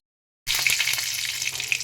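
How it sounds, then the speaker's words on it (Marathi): Cumin and mustard seeds crackle and spit in hot oil for an Indian tempering, a dense steady sizzle with sharp pops that starts abruptly after a moment of silence and carries on close and loud. "मी तेलामध्ये जिरे मोहरी घालत आहे फोडणी तडतडत आहे"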